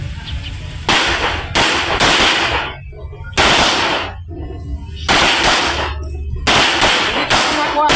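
Rifles firing on a marksmanship range, several loud sharp reports in irregular succession, some overlapping into bursts, each with a ringing decay, while people talk faintly in the background.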